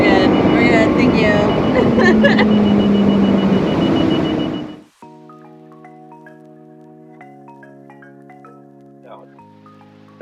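A Mercury two-stroke V6 outboard roars loudly and steadily on a boat at speed for about five seconds, with a voice heard over it, then cuts off abruptly and music follows.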